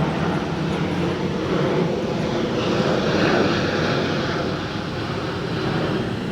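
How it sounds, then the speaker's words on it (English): An Airbus A380 airliner passes overhead as a broad, steady jet roar that swells slightly near the middle and stays loud throughout, heard outdoors with no one talking. "There's another plane going past."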